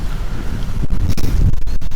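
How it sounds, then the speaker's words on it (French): Strong 30-knot wind roars over a sailboat at sea during an Atlantic crossing, a loud steady buffeting rush with gusty bursts and wave sounds, buffeting the microphone. "On a quand même 30 nœuds de vent là"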